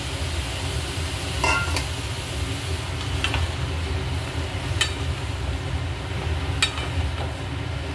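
Chopped ridge gourd tossed into a pan over low background frying noise, with a few sharp utensil scrapes and clinks spaced out as the pieces are stirred; steady, close and moderate in level.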